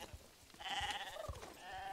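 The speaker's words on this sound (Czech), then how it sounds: "My jsou strašně pomalý ty ovečky" Sheep bleat in the Star Stable Online video game, a couple of faint wavering bleats rising over soft background sounds, with no talking.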